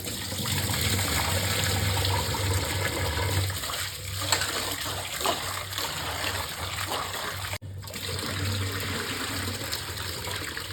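Rice being washed in water by hand for temple-style ven pongal, a steady wet sloshing and trickling that runs throughout, close and fairly loud, with a brief dropout near the end.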